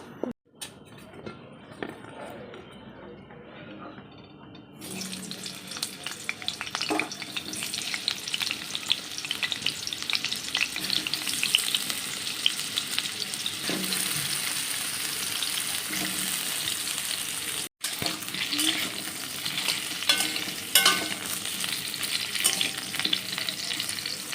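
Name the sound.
potatoes frying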